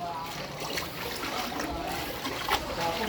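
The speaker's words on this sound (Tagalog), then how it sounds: "Malakas ang agos." Rushing, churning floodwater flows strongly with splashes and sloshing, while voices talk faintly over it.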